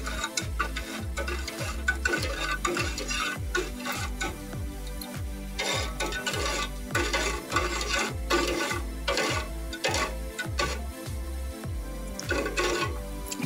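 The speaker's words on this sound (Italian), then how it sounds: "andiamo a mescolare in modo da far sciogliere lo zucchero." Sugar is stirred into water in a pot to dissolve, making a steady, rhythmic scraping and ticking of a spoon against the pot, repeated close up for the whole stretch with no talking.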